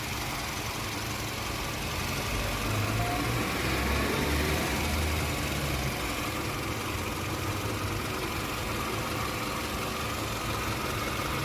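A car engine idles steadily nearby, a constant low rumble with a dense, noisy vibration throughout.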